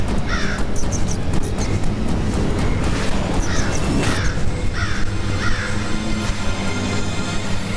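A crow caws repeatedly in an animated Ganesh story, each harsh call standing out over a loud, steady rumbling background with no speech.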